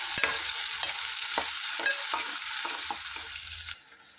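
Two onions and four green chillies fry in a pan, a steady bright sizzle broken by repeated clicks and scrapes of stirring, loud and close, which cuts off suddenly near the end, with no talk.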